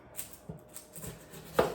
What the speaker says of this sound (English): We're gonna start with chopping onions, okay?